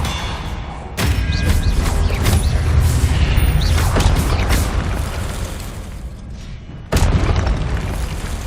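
Spell blasts in Hogwarts Legacy, a video game: loud booming impacts with crackling bursts and mechanical rumble, a sharp onset near the start and another heavy hit later, continuous dense game noise throughout.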